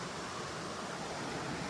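A fast-flowing stream at a ford in the 100 Mile Wilderness on the Appalachian Trail makes a steady, close, full-bodied rush of water with no breaks and no voices.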